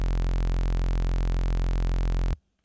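Sustained Serum synth bass for neurofunk, a sine wave with added third harmonic plus saw, buzzing steadily and loud for over two seconds before cutting off abruptly into near silence.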